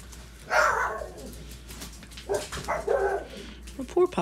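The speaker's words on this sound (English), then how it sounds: "My poor pups hate when the door opens." Household dogs react as a door opens, with a couple of barks and higher whining yips, fairly close and mixed with background chatter.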